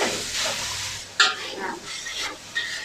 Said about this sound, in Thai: เราเริ่มจากการที่เราใส่น้ำมันไปก่อน แล้วเราก็เอาหมูลงไปผัดนะคะ